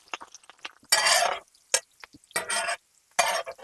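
Onions and green chillies fry in hot oil for a spicy Andhra village-style tuna dish, the sizzle rising in short loud bursts between near-silent gaps as the pan is stirred.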